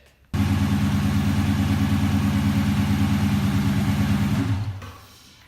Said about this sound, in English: we're going to start the car for a few seconds to let the oil go where it needs to be